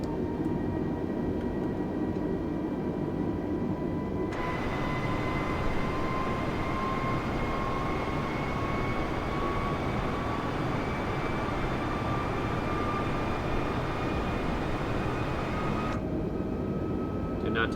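An Airbus A320 climbing in Microsoft Flight Simulator, a steady broadband engine drone with faint high whining tones, loud and constant, with the sound opening up brighter partway through before dulling again near the end.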